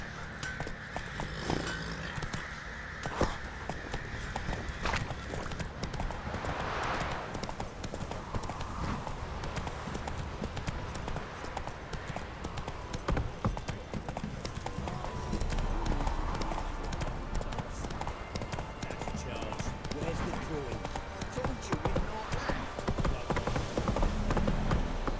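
Roach the horse in The Witcher 3 trots with a steady, rhythmic clip-clop of hooves, close and clear across the whole stretch, with occasional snorts and game ambience underneath.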